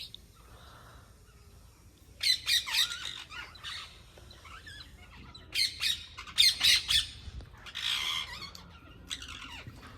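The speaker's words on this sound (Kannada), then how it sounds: "ಈ ಮರದ ಮೇಲೆ ಫುಲ್ ಎಲ್ಲ ಕುತ್ಕೊಂಡು ಕಿತಾಪತಿ ಮಾಡ್ತಾ ಇದ್ದಾವೆ ಗಿಳಿಗಳು." Parrots perched together in a tree squawk in sharp, shrill bursts, starting after a quiet opening and clustering in two busy flurries, fairly close and loud against a soft outdoor background.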